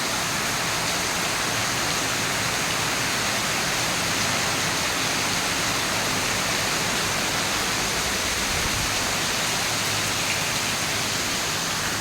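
Heavy monsoon rain pours down steadily in Mahabaleshwar, Maharashtra, near a temple and flooding farm fields, a dense, continuous roar of water with no break or voices.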